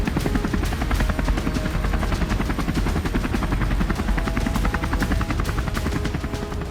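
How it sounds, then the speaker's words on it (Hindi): A patrol helicopter flies over the sea chasing a sea drone, its rotor beating in a loud, fast, steady chop that stays close and constant throughout with no voices. "आसमान में गश्त लगा रहे हेलीकॉप्टर से मागुरा को देखा जा चुका था।"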